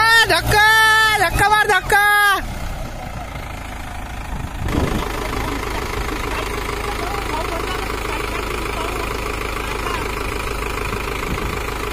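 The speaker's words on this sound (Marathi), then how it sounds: "देवाच्या कृपेनं ट्रॅक्टर निघाला भाऊ. ट्रॅक्टर काढणं चालू आहे" Tractor engine running hard while pulling a stuck trailer free during a village Ganpati immersion, a steady low rumble with loud shouting voices at the start, then the engine drones on continuously with people calling out.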